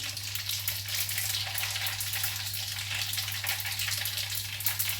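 Cumin seeds frying in hot oil for a small Indian gooseberry (amla) pickle, a steady dense crackling sizzle that holds evenly throughout over a low stove hum, with no talking.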